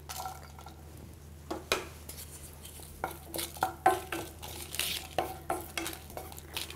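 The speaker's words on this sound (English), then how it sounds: "Add red chilies and then diced onion." Red chilies and diced onion fry in a little hot oil in a pan for a brinjal chutney, a soft sizzle under repeated clinks and scrapes of a spoon stirring against the metal.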